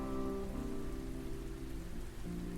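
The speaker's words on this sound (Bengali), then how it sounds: "বৃষ্টির ঝুমঝুম শব্দ অবিরত। হঠাৎ মাঝে মাঝে মেঘের গর্জন।" Steady rain patters on surfaces over a low, humming rumble, continuous and even throughout, with no voices.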